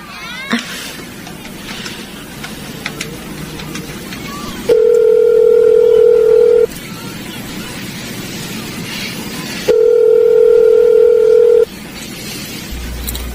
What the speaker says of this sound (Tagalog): may payphone ho ba kayo? May tatawagan lang po kasi ako.